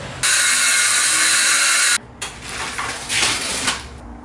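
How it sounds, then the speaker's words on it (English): Air ducts clogged with rat-nest insulation being cut open in a hot attic during a home renovation, a loud steady whine of a power tool for about two seconds followed by scraping, clattering cutting and rattling noises nearby. "So we have to cut into these ducts"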